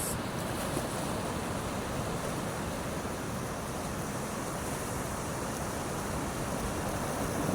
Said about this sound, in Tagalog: Yun, oh, ang ganda ng waves.